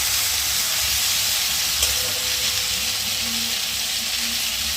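Potato and pointed gourd frying with spices in a pan, a steady loud hiss of sizzling oil throughout, with faint stirring scrapes and no talk.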